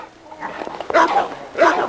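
A seven-month-old young dog barks and yips nearby in a yard, several loud, short bursts spaced over two seconds.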